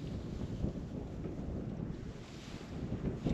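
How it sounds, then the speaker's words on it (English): Steady wind rushes and buffets against the microphone in a ghost town, a continuous low roar with gusty swells and no voices. "that wind is blowing right now"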